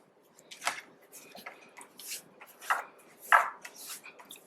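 Bread dough for a sweet sugar loaf is slammed and worked on a table in a string of separate dull thumps and slaps, close and spaced about half a second apart, with soft rubbing between them.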